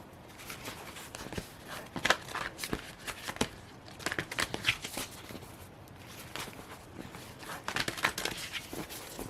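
Moonology oracle cards are shuffled repeatedly in quick riffling bursts, close and fairly quiet, with short pauses between rounds.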